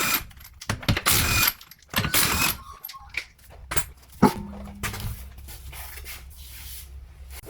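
Someone clicks the ratchet adjuster of a Kia Sorento drum parking brake. Close, uneven mechanical clicks and rattling bursts come first, then a quieter low hum.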